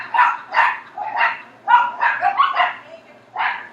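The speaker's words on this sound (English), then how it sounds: "I apologize for the dogs barking if you can hear them" Dogs bark repeatedly in quick bursts, about eight sharp barks in close succession with short pauses, fairly loud and near.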